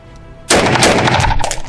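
Gunshots from an AR-15 rifle fired with its LAW Tactical Gen3M folding stock unfolded: a sudden loud blast after brief quiet, then ringing echo and rapid follow-up reports trailing off.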